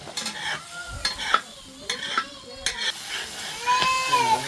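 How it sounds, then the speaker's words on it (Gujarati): Tomatoes cooking in a pan over a low flame for matar paneer, with a spoon scraping and tapping the pan in irregular strokes over a soft sizzle. "હાવ ફ્લેમ ધીમી ધીમી તાપે ટામેટા ચડવા દેવાના"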